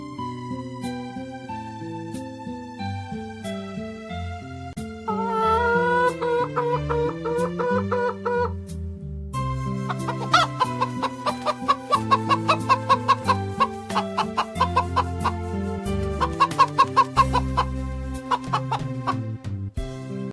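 Repeated chicken clucks and squawks over a bright, musical backing, the clucking coming in rhythmic bursts and growing busier toward the end.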